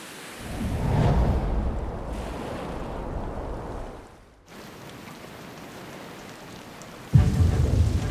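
Rain arriving outdoors on a tropical survival island: a broad, roaring wash of falling water and gusts swells, dips and surges again, loud and close, with no voices.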